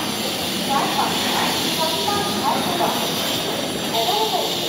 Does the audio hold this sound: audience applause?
no